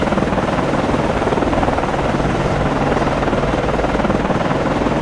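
A helicopter lifts off from the deck of an Arleigh Burke-class destroyer in the naval game Cold Waters. A steady, loud rotor chop throbs evenly throughout, with a broad engine roar underneath and no talking.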